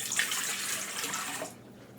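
Warm water pours into a stand mixer's mixing bowl, a bright close splashing stream that runs steadily for about a second and a half and then cuts off abruptly, leaving quiet room tone.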